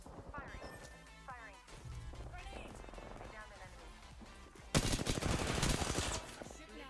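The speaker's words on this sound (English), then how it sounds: "Shooting at me." Bursts of video game gunfire crackle under casual talk among players, with a louder, dense volley of rapid shots erupting near the end.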